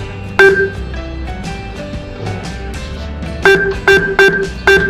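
Several short ATM keypad beeps sound up close, some in a quick cluster, over a faint background hum with no talking.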